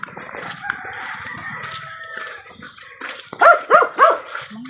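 A dog barks three times in quick succession, loud and close, after a stretch of background noise with a faint rooster-like call.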